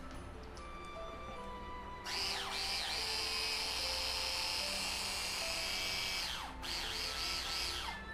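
A Bosch electric power drill runs at high speed: a loud, close whine that starts abruptly, holds steady with brief pitch swoops, cuts off and then restarts, with no talking.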